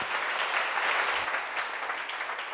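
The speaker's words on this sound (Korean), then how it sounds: "자, 박수로 주님께 영광." A church congregation applauding together, a dense, even wash of clapping that holds steady and close for a few seconds.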